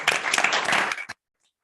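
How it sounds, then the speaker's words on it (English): A short burst of applause, a group clapping loudly for about a second before it cuts off abruptly to silence. "Round of applause."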